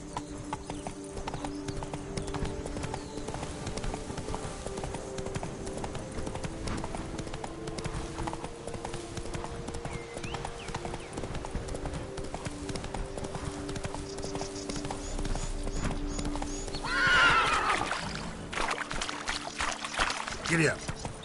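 Horse galloping in the video game The Witcher 3, rapid clip-clop hoofbeats running steadily for about twenty seconds over ambient game sound, with a voice urging the horse on.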